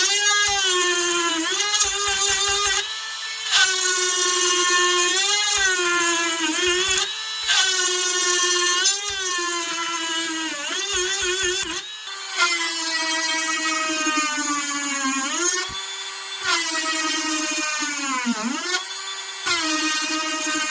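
A Tacklife cordless rotary tool, a battery-powered Dremel-style tool, whines steadily at high pitch while pushed hard under load, its pitch sagging and recovering as pressure changes, loud and close throughout.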